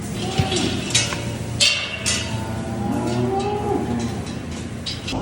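Several cows moo loudly and repeatedly nearby, long low calls overlapping amid general barn noise.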